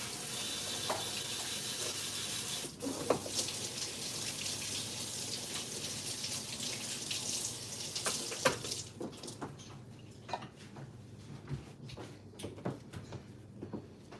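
Food being rinsed under a running kitchen tap, a soft continuous water rush for most of the stretch, broken by clattering knocks and drips as it tapers off, quiet and close without talking.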